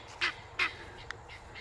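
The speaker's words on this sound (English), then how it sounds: "I can't think straight with this guinea talking" A male guinea fowl gives a few harsh, raspy calls nearby, two louder bursts followed by fainter ones, in a quiet rural yard.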